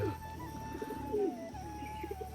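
Domestic pigeons at a home loft coo softly, several rounded calls overlapping over a steady low hum and background drone.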